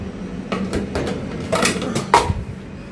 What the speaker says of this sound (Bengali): পোলাওটা হয়ে গেছে এখন নাড়াচাড়া দিয়ে নামায় ফেলবো